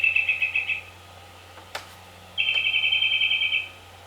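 Birds kept by a grandparent, two rapid trilled chirping bursts heard fairly close with a sharp click between them, over a low steady background hum.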